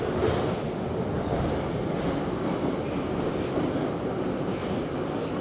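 A Rusich metro train runs along the Big Circle Line, a steady loud rumble with rattling wheels and a broad roar throughout, heard from inside the moving car with no talking.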